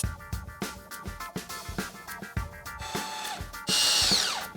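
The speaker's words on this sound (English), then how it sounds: "I would suggest you just screw them together like this" Power drill driving screws to join a wooden sound-panel frame, a series of short whirring bursts with pauses in between, then one longer high-pitched run at the end, close and fairly quiet.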